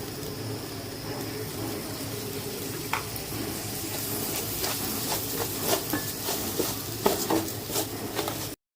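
Rice for pulao frying in a pan with spices and green chilies as ginger paste goes in: a steady soft sizzle with occasional scraping and clinks of a utensil against the pan, close by.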